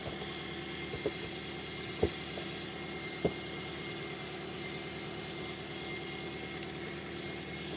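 A 2010 Toyota Corolla 1.8 engine idles steadily after a spark plug replacement, with an even low hum and a few light clicks, close and uninterrupted with no talk.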